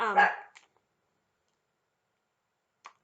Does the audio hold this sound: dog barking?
yes